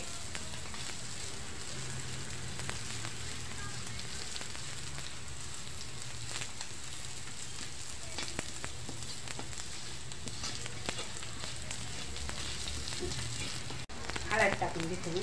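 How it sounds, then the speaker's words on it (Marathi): Chopped onion with mint sautés in a spice masala in a pan for veg pulao gravy, a steady soft sizzle with faint scraping stirs and occasional light crackles throughout. "कांदा टाकला आता अजून थोडा परतून घ्यायचा मसाल्यात"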